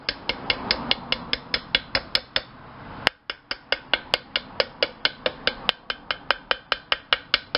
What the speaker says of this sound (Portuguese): Só ir batendo ao redor, do arrebite, que ele vai esparramando.